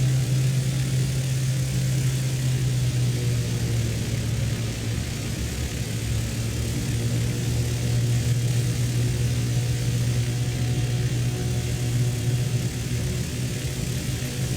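Canadair firefighting aircraft engine in Microsoft Flight Simulator 2020, a steady loud drone with a strong low hum holding evenly throughout as throttle comes up, no voices present.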